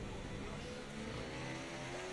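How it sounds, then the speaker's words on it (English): Race car in a racing video game bumping over a curb during a league race, its engine note droning steadily with a rising whine, a brief rough thump folded into the continuous close engine roar. "Oh, we unsettle the car there with that curb."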